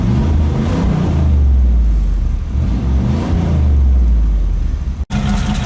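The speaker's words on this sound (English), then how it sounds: "I'll give you a few revs of the engine, just so you get more of an idea of how it sounds" Heard from inside the cabin, a 1996 Camaro Z28 V8 with a misfire revs up and falls back twice, a loud, deep rumble swelling and settling, then cutting off abruptly near the end.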